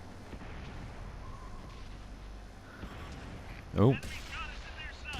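A tank gun fires in the game World of Tanks: a single sharp boom lands near the end over steady engine rumble and distant battle noise, and someone speaks briefly.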